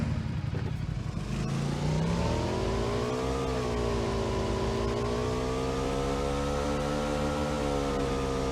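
Motorbike engine in PUBG held at high revs while riding fast, a loud, close, sustained drone whose pitch climbs after a brief shift and then stays steady.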